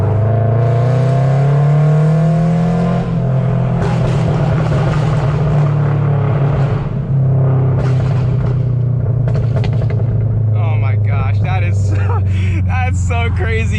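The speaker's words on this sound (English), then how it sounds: "You already know we gotta get some pops going through the tunnel." Toyota GR86 revving hard inside a tunnel, a loud booming exhaust note that swells and drops, then crackling pops echo off the walls while people talk excitedly over it.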